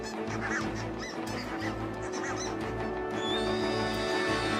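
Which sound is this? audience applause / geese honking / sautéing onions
geese honking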